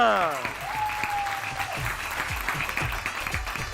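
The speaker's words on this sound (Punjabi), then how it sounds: "ਤਾੜੀਆਂ ਜੀ। ਤਾਲੀਆਂ।" Studio audience clapping on a Punjabi game show, a burst of applause under an announcer's voice, with a short electronic tone near the start and crisp, rhythmic claps continuing behind the talk.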